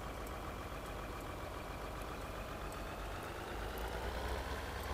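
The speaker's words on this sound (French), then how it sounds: "On va prendre ce tracteur pour la remorque." A tractor engine idles in a farming video game, a steady low mechanical drone that holds at an even level throughout, with no talking.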